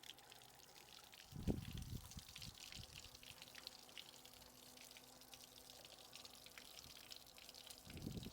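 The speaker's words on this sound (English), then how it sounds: "Sounds like water flow going through everything." Cooling water runs through a Yamaha 225 four-stroke outboard during first-start checks, a steady faint hiss and trickle with a louder gurgling burst near the start and low rumbles beneath.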